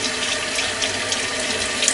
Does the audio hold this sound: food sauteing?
no